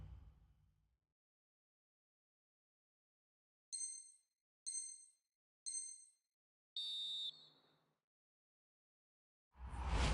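Referee's final whistle in the football video game EA FC 24, a match between Sheffield United and Bournemouth: three short bright whistle blasts, then a longer one, ringing clearly on their own in near silence.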